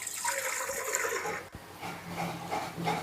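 Water pours from a vessel into a cooking pot while cassava is being prepared Kottayam style. It is a close, gurgling splash with a brief break midway before the stream resumes.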